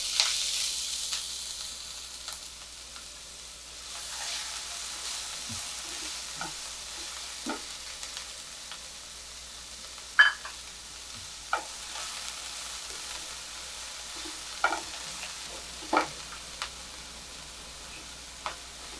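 Finely chopped onion frying in a pan for vermicelli upma, a soft steady sizzle under occasional sharp utensil taps and scrapes.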